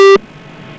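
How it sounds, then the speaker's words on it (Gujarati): A telephone busy tone after a phone call disconnects, heard as one loud, steady electronic beep cut off sharply in a fraction of a second, followed by faint line hiss. "ફોન ડિસ્કનેક્ટ થઈ ગયો છે."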